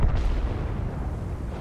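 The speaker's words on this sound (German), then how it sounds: "Er kann jetzt vielleicht nochmal einen Schuss auf Papa Pavian abgeben" Single cannon shot from a tank in World of Tanks, during a clan tournament final: a deep, heavy boom at the very start with a low rumbling tail that lingers for over a second.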